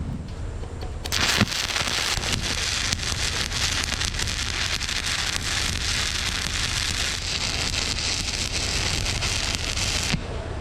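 Steady crackling hiss of arc welding passes on a drill rig Kelly bar adapter, a dense continuous sputter that starts abruptly near one second and stops cleanly near ten seconds, close and loud with no talk.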